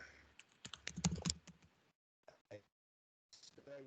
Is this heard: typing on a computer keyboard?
yes